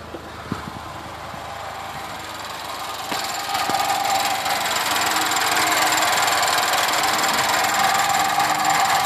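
A Chevy HHR SS engine idles close by with a steady, slightly knocking mechanical rumble that gets louder and more intense partway through.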